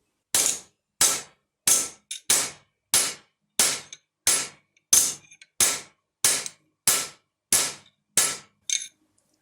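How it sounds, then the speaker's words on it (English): Thirteen sharp metallic hammer blows on sheet metal ring out at a steady, even pace, each with a short bright clang, close by and alone. "come back through with even strokes of the hammer coming straight down as possible"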